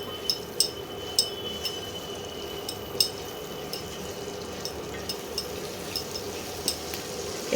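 Chicken gravy spices, including Kashmiri chili powder and dried fenugreek, fry quietly in a pan on an induction cooktop with a soft, steady sizzle, punctuated by sharp clicks and scrapes of a spoon stirring against the pan.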